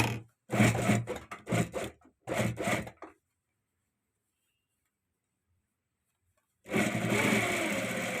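A tailor's sewing machine stitches the waist belt of a pair of trousers, running in two bursts of steady mechanical whirring with brief stops between them and a long quiet gap in the middle.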